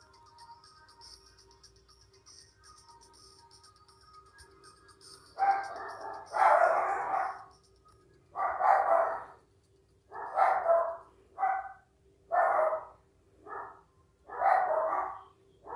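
Dogs in the video game Roblox bark repeatedly at a moderate distance, about eight loud barks in an uneven rhythm after a quiet start.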